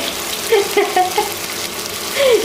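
Onion, garlic, green chilli and cumin frying together in a pan give a close, steady crackling sizzle with small spattering pops throughout.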